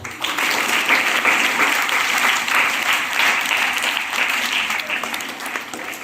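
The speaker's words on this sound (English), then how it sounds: "Clap for him." Steady applause from a school audience, sustained clapping at even loudness throughout, with no pauses.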